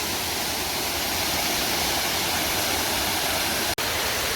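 A jungle waterfall near Thong Pha Phum, Thailand, roars in a dense, steady rush of water, loud and close, with a single brief click near the end.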